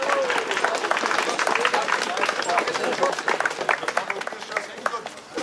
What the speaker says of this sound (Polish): I brawa dla tych osób